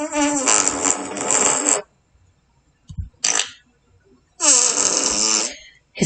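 Two long, loud, buzzing fart sounds with a short blip between them, close and alone against silence, likely a voice imitating the noise.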